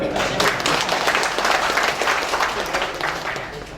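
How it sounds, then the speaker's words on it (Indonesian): Participants at an extraordinary regional assembly of a Malay customary council in Dumai break into applause, a sustained crowd clapping that fades slightly toward the end. "Saya kira tepuk tangan dulu."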